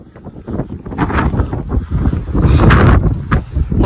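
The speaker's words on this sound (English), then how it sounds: "Holy cow, it's windy out here" Strong outdoor wind buffeting the microphone, loud rumbling gusts that swell and drop in uneven bursts, close and harsh, with no talk over it.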